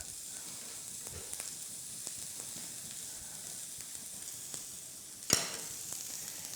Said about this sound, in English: pan fried, a little brown around the edges. And I'll be adding some olive oil periodically